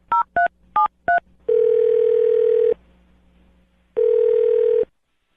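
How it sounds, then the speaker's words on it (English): A telephone dials four quick touch-tone beeps in a row, then two long ringback tones sound, separated by a pause. The tones are clear and close, with no talk. "I'm going to dial his phone number right now"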